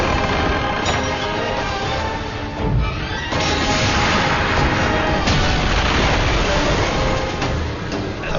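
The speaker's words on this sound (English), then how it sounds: "the one thing that you have to do is go shoot the ballista to stop those ships from firing" Heavy booming impacts and crashes from ballista and ship fire in the PSP video game God of War: Chains of Olympus, a dense continuous barrage of explosions with no pauses.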